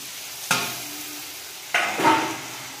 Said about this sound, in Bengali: এখন ভেজে রাখা সবজিগুলো দিয়ে দেবো